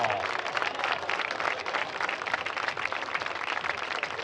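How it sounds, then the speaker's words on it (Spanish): A crowd at a race-walking prize ceremony claps warmly for the third-place finisher, dense steady applause lasting the full four seconds at moderate distance, with a voice faintly audible beneath it. "vamos a darle un aplauso muy fuerte al tercer clasificado, Nicolás Collazo"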